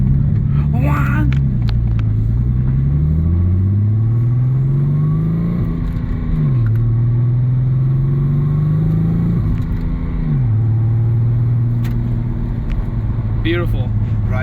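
A car fitted with a new motor and an MSD Blaster coil drives along, its engine loud and close, revving up through the gears with clear shifts in pitch as it accelerates, then holding a steady, strong rumble.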